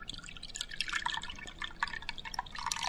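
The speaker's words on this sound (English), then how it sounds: "I'll pour you a cup of tea." Tea is poured into a cup, a faint, close trickle of liquid with light splashing and dripping, quiet and without talk.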